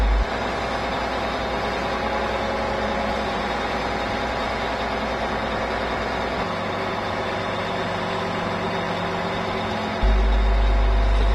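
A 75 tonne-metre road-rail crane's tug drives a trailer off the track, its heavy diesel engine rumbling and idling steadily at moderate distance, with a louder low thump near the end.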